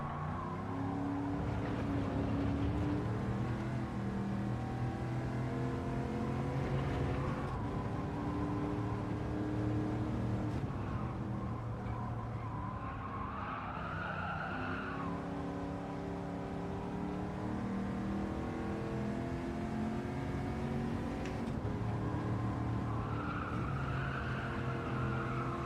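Race car engine in the Gran Turismo 7 video game drones steadily and loudly for the whole stretch, its pitch rising and falling with gear changes and revs, with hints of tire squeal and no talking.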